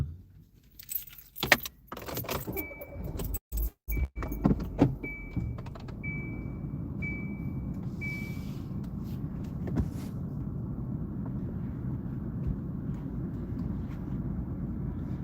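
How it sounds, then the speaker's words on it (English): Keys jangle near a car on a busy Los Angeles street, followed by a few sharp door thumps and a run of evenly spaced chime beeps, then a steady low engine and road hum as the car moves off; no one speaks. "I got to move my car again"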